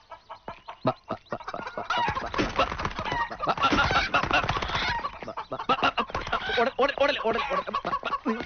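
Chickens cluck and squawk in agitated bursts close by, mixed with people's voices.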